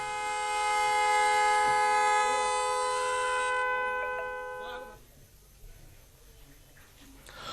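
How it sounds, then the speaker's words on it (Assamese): A traffic police officer sounds a loud, blaring motorcycle horn as one sustained piercing tone lasting several seconds before it cuts off, leaving quieter street background. "বাইকৰ সন্মুখত কাণ পাতিবলৈ দি যান বাহন আৰক্ষীয়ে বজালে বিকট শব্দৰ হৰ্ণ"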